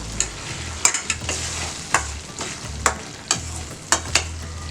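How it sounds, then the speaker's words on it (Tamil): Chopped goat spleen fries in a pan under a steady sizzle while a spoon scrapes and knocks against the pan in regular strokes about once a second, close and clear, with no talking. "நம்ம கட் பண்ணி வச்சுருக்கிற மண்ணீரல் போட்டுக்கலாம். இதை வந்து கலக்கிடுங்க"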